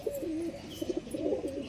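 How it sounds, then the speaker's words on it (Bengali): A female Tikki-line pigeon at a Howrah Maidan pigeon market gives soft, repeated throaty coos in short bursts. The calls sound close but quiet, with nobody speaking. "এই দেখুন এই একটা টিক্কি লাইনের মাদি পায়রা আছে"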